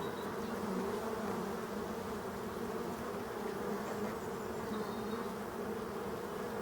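Honeybees buzz steadily as they fly into a hive through a strawberry net set up against Asian hornets in Brittany, a continuous close swarm drone with no talking.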